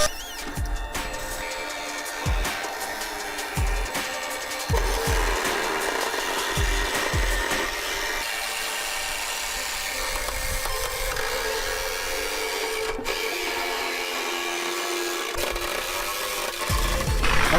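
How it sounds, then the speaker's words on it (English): A Mitsubishi 3000GT gas tank being cut open along its seam with a power tool, a continuous rough grinding and cutting noise close by with intermittent knocks and scrapes. "gonna cut this thing along the seam and cut it open and actually take it apart"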